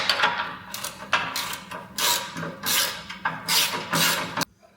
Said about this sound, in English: I'm going to now tighten this back bolt.